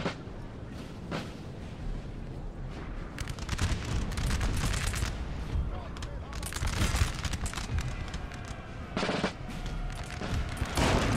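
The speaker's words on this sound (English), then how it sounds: "Howitzer fire coming in." Howitzer artillery fire in the Napoleon Total War game, with repeated booming blasts and bursts of gunfire over a dense rumbling battle din. Someone speaks over the noise.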